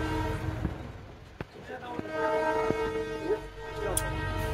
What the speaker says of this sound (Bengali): টয় ট্রেনটা যাচ্ছে।